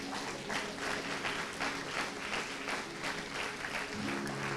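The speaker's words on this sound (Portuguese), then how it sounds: "Vamos aplaudir a Jesus por isso?" A church congregation applauds during a worship celebration, with continuous dense clapping throughout and faint voices beneath.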